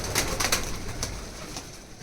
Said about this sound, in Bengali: তাছাড়া অসংখ্য কবুতর রয়েছে